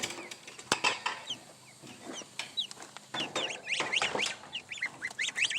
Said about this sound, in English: Look at the geese, y'all.